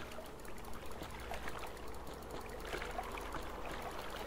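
River water flows and trickles faintly and steadily in the video game Jack Keane, a soft continuous babble with no voices.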